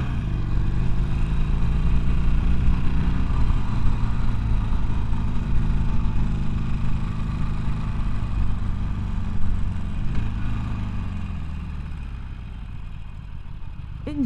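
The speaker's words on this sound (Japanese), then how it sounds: "エンジンの鼓動感というのはね" A 2019 Harley-Davidson Iron 1200 Sportster runs steadily with a deep, loping engine rumble and a throbbing low pulse, loud and close throughout with no talk.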